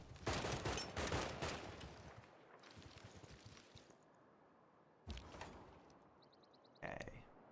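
Unit attack gunfire in Civilization VI comes in a few bursts of rapid shots, loud at first, with later short bursts and game effects in between.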